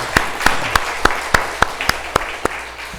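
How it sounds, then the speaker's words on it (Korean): Church congregation clapping during a Sunday service, about ten distinct, evenly spaced claps in a steady unison rhythm, fairly close and clear against a quiet room. "자, 우리 박수 한번 치겠습니다"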